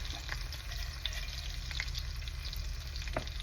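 Chicken adobo with soy sauce and bay leaf sizzles and fries steadily in a pan, with soft stirring scrapes over the constant close crackle and no voices.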